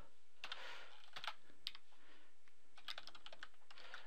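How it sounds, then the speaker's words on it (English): Quick bursts of computer keyboard typing as a project name is entered in editing software, clustered keystrokes with short pauses, close and fairly quiet, no talking. "Select that folder and I'll type a new name for my project"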